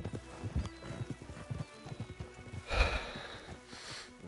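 Horses in the Red Dead Redemption 2 video game clip-clop with rapid hoofbeats, snort and give a loud neigh midway, close and fairly loud with game ambience behind.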